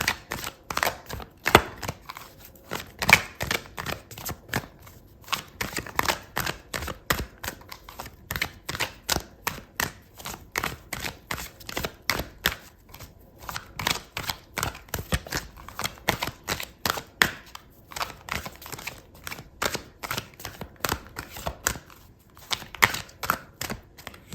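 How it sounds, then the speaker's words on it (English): Tarot cards are shuffled and handled in a continuous run of crisp, close clicks and riffles. They keep a fast, uneven rhythm for the whole stretch and are heard alone without talk. "I'm going to pull out another card for you"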